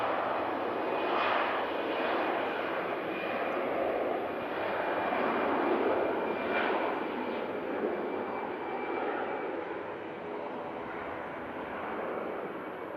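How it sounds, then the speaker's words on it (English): An EasyJet airliner accelerates down the runway on its takeoff roll toward Charles de Gaulle, a steady, broad distant roar of engines that swells slightly and holds without talk. "EasyJet for Charles de Gaulle now on the roll."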